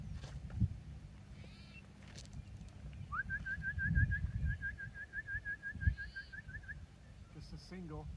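Young racing pigeons returning to the loft during a race, with a clear repeated whistling chirp series of about fifteen short notes midway, over low outdoor rumble and a person speaking nearby.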